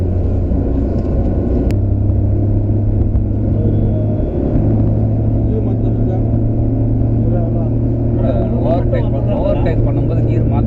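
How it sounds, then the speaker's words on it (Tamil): A car engine drones on as the car drives along a road in India, a constant loud rumble with faint voices mixed into the cabin noise. "ஓவர்டேக் பண்ணும்போது கீர் மாற்றக்கூடாது பாண்டி,"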